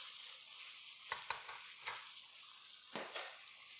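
Beef and broccoli cooking in a pan, a soft sizzle with a few quick scraping stirs and light clinks of utensil on the pan, close but quiet.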